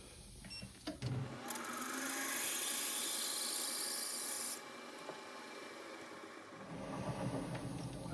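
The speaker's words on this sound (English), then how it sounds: "Well, this is the 9/32 drill." A 9/32 drill bit bores into metal for a fuel tank part of a hit-and-miss engine, a steady high grinding whine lasting several seconds, close and fairly loud, then tapering off as the cut finishes.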